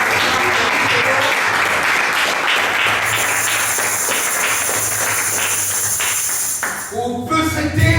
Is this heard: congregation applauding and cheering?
yes